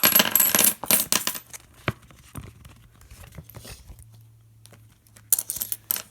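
Loose change in a paper groceries envelope, jingled and spilled out with bright metallic clinks and rattles, then scattered single coin taps and shuffling, close and unaccompanied.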